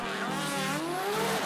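Nissan GT-R drag car, a high-boost Alpha 12+ build, launching hard down the drag strip, engine note climbing through harmonics with a brief tire chirp, loud and continuous over the whole burst.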